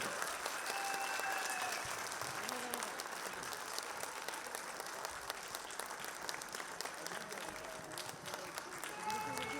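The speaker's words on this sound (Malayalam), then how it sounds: "വലിയൊരു കയ്യടി" Sustained applause from a large audience at an event, dense, steady clapping filling the whole stretch, with crowd murmur and a few voices underneath.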